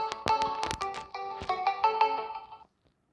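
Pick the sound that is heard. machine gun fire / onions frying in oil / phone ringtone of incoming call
phone ringtone of incoming call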